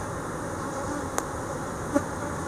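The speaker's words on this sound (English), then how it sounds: "bees are being pretty good" Honeybees buzz around hive frames during a hive combine, a soft continuous drone close by with a couple of brief sharp clicks from handling the equipment.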